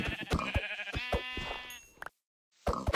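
Sheep bleating in the video game Minecraft: a few wavering, nasal bleats come close together and fairly loud, then a sudden silence before another sound starts.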